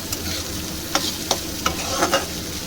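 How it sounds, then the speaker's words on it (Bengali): Onions sizzle in hot oil in a pan for panchmishali dal, a steady fry with a few sharp clicks of a spatula stirring at intervals. "পেঁয়াজটা খুব ভালো করে ভেজে নেব।"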